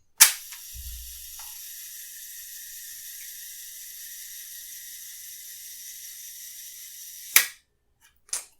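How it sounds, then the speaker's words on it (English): A Fujica GS645 medium format camera's mechanical shutter fires with a sharp click, followed by a long steady whir of the self-timer running, then another snap and a final click. "and then push the shutter button."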